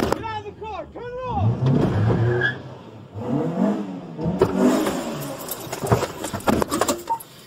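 A fleeing driver's car engine revs during a police traffic stop, a mid-pitched roar building under loud overlapping shouting from nearby people.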